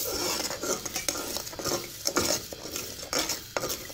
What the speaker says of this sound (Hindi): और लगातार हम इसे मिक्स करते रहेंगे